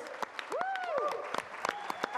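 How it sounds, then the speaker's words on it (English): Light applause for children at a live charity telethon, scattered claps with a brief swell of clapping in the middle, while voices talk and call out over it. "Everybody give a round of applause for the kids."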